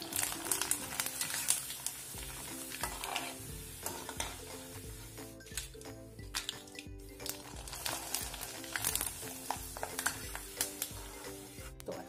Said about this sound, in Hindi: फ्राई करने के लिए पहले तेल को हम गर्म करेंगे, उसके बाद थोड़े थोड़े चिप्स डालकर इसको हम फ्राई कर लेंगे।